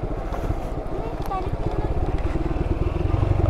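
An off-road motorcycle engine-brakes down a steep hill, giving a steady low pulsing rumble that grows slightly louder, with wind buffeting the microphone.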